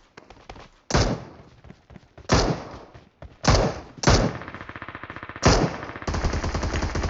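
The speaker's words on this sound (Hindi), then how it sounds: "अभी फायरिंग हो रही है" Bursts of automatic gunfire in the battle-royale game PUBG Mobile, five or six loud sharp volleys separated by short gaps, ending in sustained rapid fire, with no talking over it.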